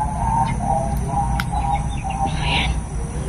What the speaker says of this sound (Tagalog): Mga uwak mga po, uwak.